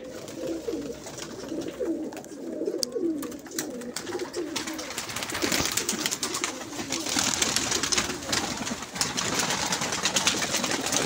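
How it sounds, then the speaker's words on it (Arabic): Domestic pigeons kept on a rooftop coo in soft repeated rolling calls, close by and fairly quiet, with a rising rush of background noise later on. "هذا الحمام البيور"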